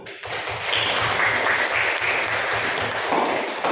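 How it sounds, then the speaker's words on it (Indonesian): Classroom applause during an economics lesson, steady clapping from a group of students filling the room at a constant level, with a faint rhythmic thumping low underneath. "Tepuk tangan dulu."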